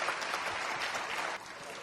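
A conference audience applauds to welcome a former senator, brief dense clapping at moderate volume that eases slightly toward the end.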